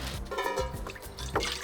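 Drinking water spilling out of a camping pot, a close, gentle trickling and splashing with a few small gurgles, fairly faint and with no talk.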